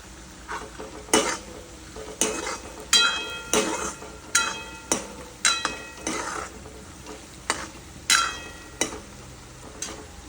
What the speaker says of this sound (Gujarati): હિંગ નાખીને સીધી ડુંગળી નાખી દીધી છે અને થોડી વાર માટે થવા દઈશ